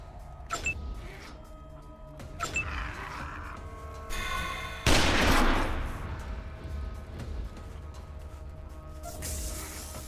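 Gunfire in the video game Wasteland 2, with sharp shots and bursts scattered across the clip, one heavy blast near the middle and a dense layer of game sound underneath.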